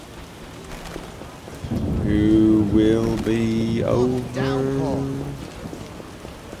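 Steady rain and rumbling thunder from The Witcher Enhanced Edition video game wash through the background while a character speaks over the storm.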